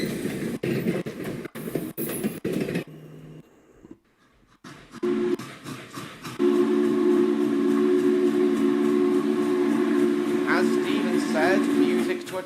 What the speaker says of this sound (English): Awesome sounding deep tone whistle.